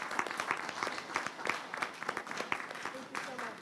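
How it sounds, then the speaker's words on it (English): An audience in a plenary breakout room gives a round of applause to poster presenters, a soft spatter of clapping that sounds fairly distant and quiet and lasts the whole stretch. "Can we give a round of applause?"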